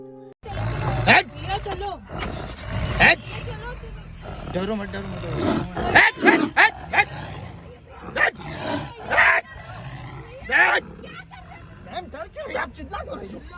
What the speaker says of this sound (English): Its fierce roaring and the intense look on its face send chills down your spine.